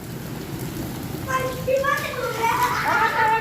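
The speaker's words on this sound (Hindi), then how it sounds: "तो भाई बारिश भी आ रही है खूब बढ़िया" Steady heavy rain hisses throughout while children play and shout nearby, their voices rising over the downpour in the second half.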